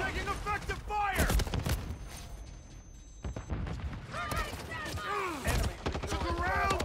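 Rapid gunfire from a battle rifle in a first-person shooter video game, with sharp repeated shots in bursts under frequent radio-style voice callouts and talk.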